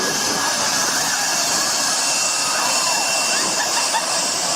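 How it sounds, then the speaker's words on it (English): A jet engine blasts with a continuous loud roaring hiss, unbroken and close throughout, with no speech. "Are these people going to get wiped out by the jet blast?"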